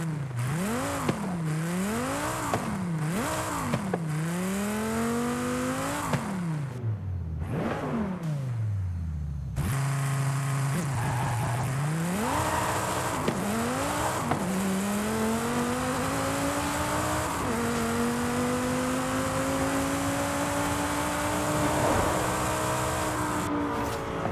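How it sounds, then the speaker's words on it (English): Dodge Viper ACR V10 engine in Forza Horizon 5, revving hard in repeated rising and falling sweeps, a brief drop-off, then long climbing pulls through the gears, loud and close. "Okay, this is the V10 from Dodge."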